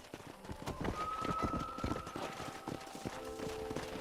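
Horse hooves clip-clop in Red Dead Redemption as a mount walks at a steady pace near a train station. The hoofbeats are close and rhythmic, with a faint sustained tone and soft ambient sound beneath them.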